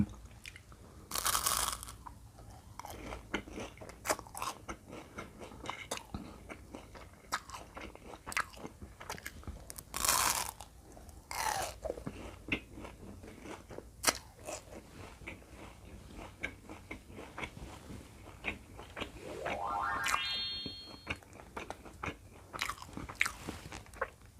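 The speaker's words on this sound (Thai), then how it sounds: "มีกรอบค่ะ ขนมโบราณ" A crunchy traditional Thai snack is bitten and chewed up close, giving repeated sharp crisp crunches in irregular bursts with quiet pauses between, and no talking.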